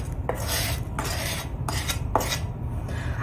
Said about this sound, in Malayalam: ഇനി നമുക്ക് ഈ വറുത്ത് വെച്ചത് ഈ ചോറിലേക്ക് നേരെ തട്ടാം